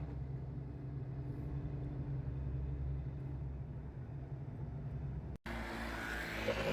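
A truck drives along the road on a long haul from Tuban to Banyuwangi, a steady low engine rumble heard from the cab, continuous apart from a brief cut near the end.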